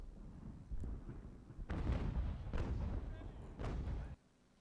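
Massed artillery guns in the strategy game Ultimate General: American Revolution fire in a rolling series of heavy booms, several overlapping blasts with rumbling tails that cut off into near silence at the end.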